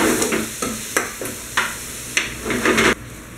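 Ground chuck frying over a layer of sauteed onions and garlic in a pan, a steady close sizzle broken by repeated stirring scrapes at irregular intervals, with no talking.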